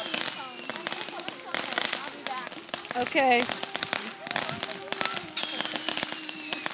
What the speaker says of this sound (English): I'm making videos about the fireworks for 2015.